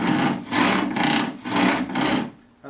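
Spring pole lathe, slightly loosened, turning wood while tenons are sized: a steady rasping, rubbing drone rises and falls in four rhythmic strokes about half a second apart, close and fairly loud, with no talk over it.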